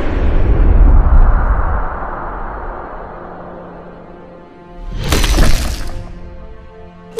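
An animated gunshot, heard as a loud, harsh burst about two-thirds of the way in, following a fading low rumble, with no voices over it.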